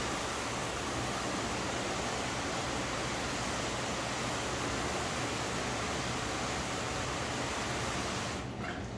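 Water sprays steadily onto a car panel treated with a ceramic or graphene spray coating during a rinse, a close, even hiss that holds constant for about eight seconds before cutting off.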